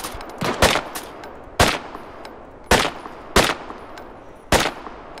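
Gunfire in the Deadside shooter game: five sharp, loud shots spaced about a second apart, each a sudden broadband crack with a short tail, over a low ambient background.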